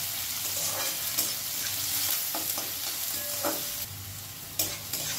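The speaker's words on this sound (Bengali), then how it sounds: "খুব ভালো করে এবার একটু সোনালি সোনালি করে আমি পেঁয়াজ রসুন ভেজে নেব" Chopped onion, garlic and green chilli frying in a pan over high heat, a continuous crackling sizzle with frequent stirring scrapes and clinks, close and busy throughout.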